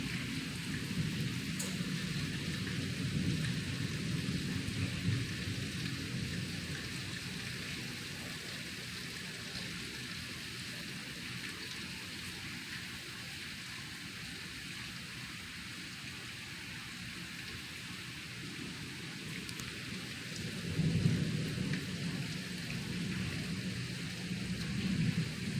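Heavy rain pours outside a front window, overflowing the guttering, with a steady broadband wash throughout and a low rumble of thunder swelling near the end.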